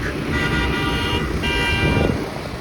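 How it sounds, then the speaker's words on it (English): A car horn honking loudly on a city street in Toronto's Leslieville neighbourhood, a steady sustained blare close by over traffic noise. "What on earth are you honking at?"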